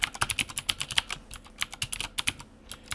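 Rapid, uneven typing on a computer keyboard while entering a database query, a dense run of sharp clicks and clacks close up that thins out toward the end, with no talking.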